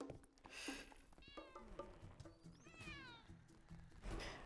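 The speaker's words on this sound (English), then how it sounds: "it sounds like Snowdrop is going to be the world's most noisy cat" A cat meows repeatedly in a farming and inn-management video game, several rising and falling calls in a row, close and clear over a busy game soundtrack.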